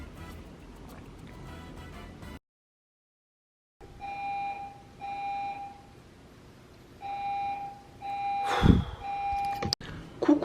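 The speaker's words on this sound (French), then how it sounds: "Comme vous avez pu voir, il y avait l'alarme incendie." A fire alarm in an apartment building, beeping in repeated bursts of high tones after a short silence, with rustling and handling noise, fairly close and loud.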